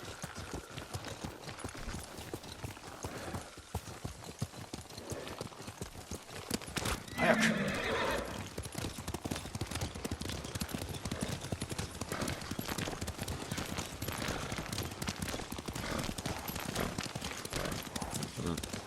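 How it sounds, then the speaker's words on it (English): In the video game Ghost of Tsushima, horse hooves clip-clop in a steady rhythm throughout, with a whinny partway through and character voices speaking over the ride. "Lord Sakai taught me to ride a horse"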